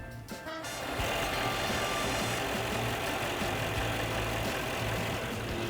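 A 2022 Mercedes-Maybach S 580 V8 engine rumbles at a smooth idle, low and steady, after a brief quieter moment at the start; no voices.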